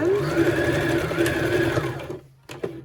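A sewing machine runs a short back stitch while a tiered maxi skirt is being sewn, its steady close motor whir lasting about two seconds before stopping, followed by a couple of brief clicks.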